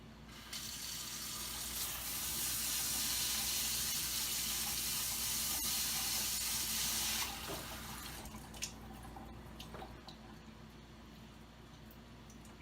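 Rice is rinsed in a sifter under a running cold-water tap, a steady loud gush of water for several seconds, then the flow stops and wet rattling and dripping follow nearby.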